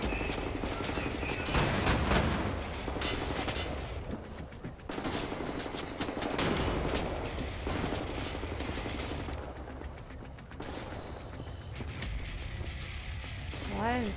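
Shotgun and other weapons firing in the first-person shooter Wolfenstein: The New Order, with dense bursts of gunfire and booming blasts filling most of the stretch, broken by brief pauses, with someone talking over it.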